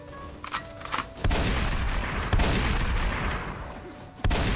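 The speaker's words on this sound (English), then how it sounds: "Kiryu literally put that man in front of gunfire." Gunfire in the video game Yakuza Kiwami: a burst of loud, sharp shots and blasts at close range, with three heavy hits and a dense roar of firing between them, and no talk.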